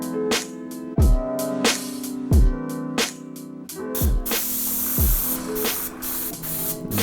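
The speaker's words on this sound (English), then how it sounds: "we're gonna throw those all together using our airbrush gun and a couple of other brushes" An airbrush gun sprays paint onto Air Jordan 11 sneakers in short repeated bursts of hissing, each burst starting and stopping sharply, with one longer continuous spray near the end; close and fairly quiet.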